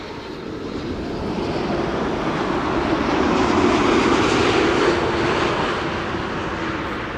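A TUI jet airliner arriving at Amsterdam Schiphol from Willemstad, Curaçao, comes in to land with a loud engine roar that builds toward the middle and then slowly fades.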